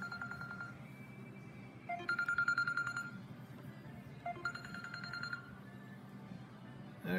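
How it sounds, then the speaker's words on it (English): A mobile phone rings in a workshop during a Polaris Slingshot trailer wiring install, two bursts of a bright electronic ringtone pattern separated by a pause, fairly close, over a low background hum. "there goes my phone"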